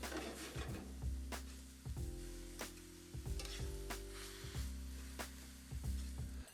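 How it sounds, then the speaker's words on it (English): Beet greens sautéing in a pan with a steady soft sizzle, broken by a few scraping stirs and low hum in the background. "We're going to saute them for about 3 or 4 minutes, just until they start to wilt and go soft"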